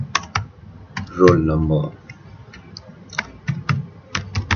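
Keys clatter on a computer keyboard while text is typed into a spreadsheet cell, coming in quick clusters of crisp clicks close up, with someone speaking briefly between the bursts.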